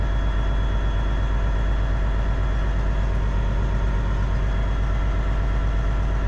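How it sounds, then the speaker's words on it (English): A heavy truck engine, newly fitted, idles steadily at about 1,000 rpm with a deep, even rumble, close and constant throughout. "I'm idling my truck."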